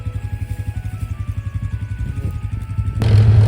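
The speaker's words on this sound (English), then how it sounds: "now I'm driving the buggy back" A farm buggy's engine chugs with a steady pulsing rhythm while being driven along a road, close and loud, swelling into a heavier rumble near the end, with no talk over it.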